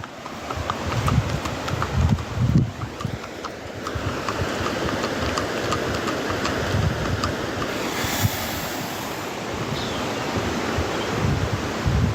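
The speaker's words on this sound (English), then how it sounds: "Now that's a real horse." A horse's hooves clip-clop steadily on a road in rural Central Patagonia, in an even rhythm under strong wind buffeting the microphone, with a cyclist nearby.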